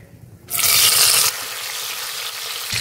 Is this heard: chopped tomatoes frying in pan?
yes